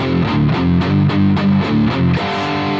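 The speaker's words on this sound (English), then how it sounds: "So when this is red, it's just the dirty amp on the A channel." Electric guitar played through the dirty amp model on the A channel of a Boss GT-1000 into a Mackie ProFX12v3 mixer, distorted chords struck in a steady rhythm of about eight hits, loud and close with no talking.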